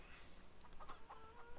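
Chickens clucking on a poultry farm in the Farming Simulator video game, several soft clucks in quick succession over a faint steady background hum.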